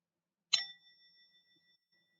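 A single struck tap on an antique enameled salt server gives a bright, clear metallic ring that sustains and slowly fades over about a second, close and alone in silence.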